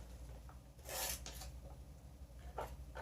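A cheap eBay knife blade slices through material in a couple of short, soft rasping cuts, quiet and close over a low background hum.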